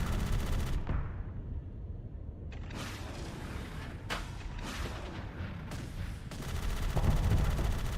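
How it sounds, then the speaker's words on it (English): Weapon fire from a MIRV launcher in the space game Starsector, a run of heavy booming launches and impacts over a dense, constant layer of game noise and rumble. "We have the standard MIRV launcher thing."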